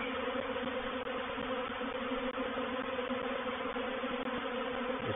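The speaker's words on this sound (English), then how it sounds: "There's a big knot of bees right here." A large swarm of honeybees being captured, clustered in a big knot, giving a continuous close-up drone of many wings humming together, with no voices over it.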